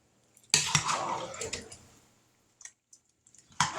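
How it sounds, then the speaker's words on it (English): Big spoon stirring stewed tomatoes in a pot, a close wet scraping and sloshing that fades out, followed by a few light clinks and taps against the pot. "we're going to stir this up"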